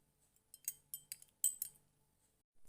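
A spoon stirs pepper seeds soaking in a glass of warm water, giving faint light clinks against the glass in a quick uneven run, close by and quiet.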